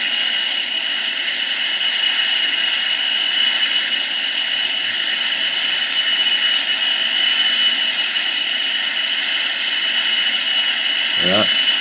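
Boeing 787 jet engines spooling for takeoff in a flight simulator, a steady broadband roar with tonal whine held at constant level throughout, with a brief faint knock near the end.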